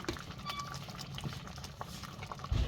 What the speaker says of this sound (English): I'm going to allow it to simmer before adding my palm oil to it.